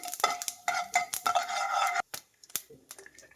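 Whole spices (cinnamon, cloves, cumin seed, peppercorns) stirred and fried in a pan for dhaba-style paneer masala gravy, a close busy run of scraping spoon and metal clinks with short pauses, no talk.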